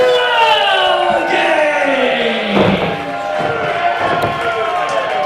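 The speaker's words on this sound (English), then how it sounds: "crowd certainly showing their support for 12 Gaige and chanting" Wrestling crowd at a Tri-State Wrestling independent show chants in support of a 165-pound wrestler from Peru, Illinois, a loud, sustained wash of many voices filling the hall throughout, with no single voice standing out.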